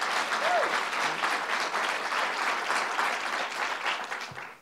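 Audience applause for a honored woman at a New York State event unveiling the 2019 Women's Justice Agenda: steady, dense clapping from a full room, sustained throughout and tapering slightly at the end.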